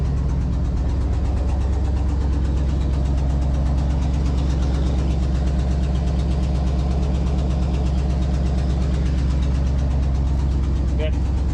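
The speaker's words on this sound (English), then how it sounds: "That tapping you hear is exhaust leak for sure." A 1969 Ford Galaxie XL convertible's engine idles steadily up close, its low rumble carrying a fast, even tapping from an exhaust leak that runs unbroken throughout.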